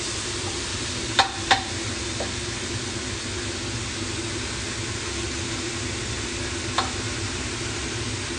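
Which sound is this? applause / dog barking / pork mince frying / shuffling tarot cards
pork mince frying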